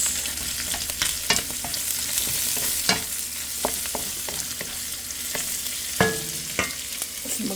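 Fish and pork cubes sizzle in a frying pan while a utensil stirs them, a steady crackling hiss broken by scattered scrapes and taps against the pan, close and without any voices.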